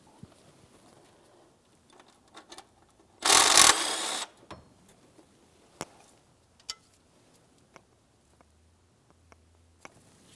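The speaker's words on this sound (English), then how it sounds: "Use a 15mm to remove that mounting bolt." A 15mm wrench works loose the power steering pump mounting bolt on a 2007-2014 GMC Sierra 2500 HD: one loud, harsh mechanical burst about a second long, then scattered faint clicks and taps in a quiet workshop.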